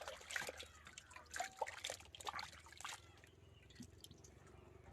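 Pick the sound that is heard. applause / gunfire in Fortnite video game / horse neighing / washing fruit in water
washing fruit in water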